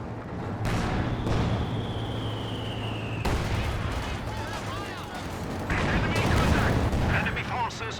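Gunfire and artillery in a World War II real-time strategy game, bursts of machine gun and cannon fire with booming impacts and whistling shells, dense and continuous beneath a commentator's talk.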